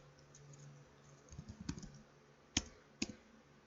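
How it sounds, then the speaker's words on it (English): Keystrokes on a computer keyboard while network commands are entered, a few soft taps and then two sharper isolated clicks over a faint low hum, close by. "Then we're going to type the IP,"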